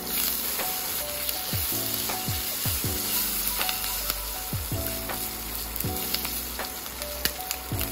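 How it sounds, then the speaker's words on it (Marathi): Fenugreek seeds, curry leaves and green chilies sizzle steadily in hot oil with asafoetida, a continuous close frying hiss broken by repeated scraping clinks of a spoon stirring the pan. "मेथी दाणा, कढीपत्ता, हिरव्या मिरच्या हे सर्व घालून चांगलं परतून घेऊया"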